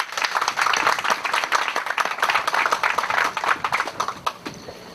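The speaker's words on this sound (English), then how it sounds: "Let's give the apprentices a round of applause, please" Audience at a Seabee civic action team turnover ceremony in Palau claps for apprentices, a lively round of individual hand claps that swells, holds, then begins thinning toward the end.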